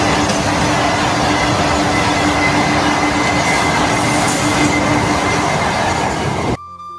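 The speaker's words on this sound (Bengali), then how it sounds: "অনেকক্ষণ অপেক্ষা করার পর আমাদের ট্রেন চলে এসেছে, আর ট্রেনের মধ্যে ভাই কি হারে ভিড়" A crowded passenger train pulls into a station with a loud, continuous rumble of wheels and cars, faint squeal and clatter mixed in, before the noise cuts off abruptly near the end.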